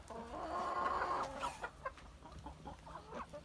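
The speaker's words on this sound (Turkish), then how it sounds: "Zaten 3-4 tane horoz var." A free-range flock including Brahma chickens clucks nearby, with a rooster's drawn-out call at the start, then scattered short clucks and squawks.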